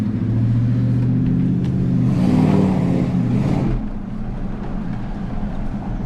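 A 2003 Dodge Ram Hemi pickup drives along with a steady low engine rumble that swells louder for a few seconds mid-run, then settles back to a cruising drone with road and wind noise.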